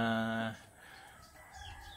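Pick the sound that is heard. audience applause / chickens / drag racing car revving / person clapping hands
chickens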